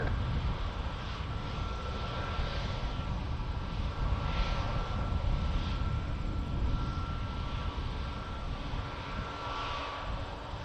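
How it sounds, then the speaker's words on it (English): A Saudia airliner departs from Toronto Pearson, a steady, moderately distant engine rumble holding evenly throughout, with no voices present. "Awesome looking departure for Saudia."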